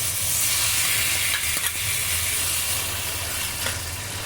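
Grated apple frying in ghee in a pan makes a steady, close sizzle with a soft, continuous hiss and occasional stirring scrapes. There is no talking.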